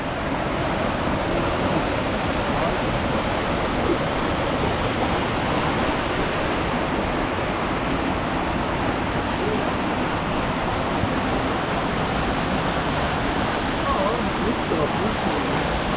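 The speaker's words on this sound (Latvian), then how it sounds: "visu te ir baigi tekot visu laiku ūdens" Warm water flows constantly in a steady, loud rushing wash that stays even and unbroken from start to finish, like a close stream or running tap filling a tub.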